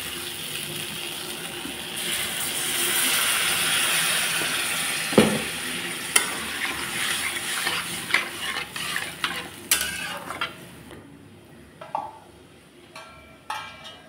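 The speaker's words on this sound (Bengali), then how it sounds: "কষানো হয়ে গেছে, এখন দিয়ে দিচ্ছি জল।" Water splashes into fried-down masala in a pan for a potato sabji, giving a steady hissing sizzle that settles into scattered stirring clacks and scrapes.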